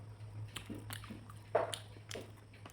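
Close, quiet bites and wet chewing of lightly fried pangash fish curry, Indian style, with several soft crunchy and squishy mouth sounds spaced irregularly over a low background hum.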